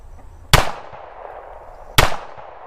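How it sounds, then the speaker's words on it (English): Two sharp, loud .45 pistol shots fired into a sheetrock target, about one and a half seconds apart, each cracking hard and then trailing off in a brief echo. "he's gonna throw some more pistol rounds at this thing"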